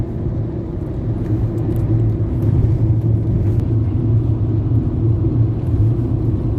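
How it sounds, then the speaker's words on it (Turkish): Steady low engine rumble and road noise from inside a car being driven through rural countryside near a village, loud and continuous with no talking. "araba kullanıyorum"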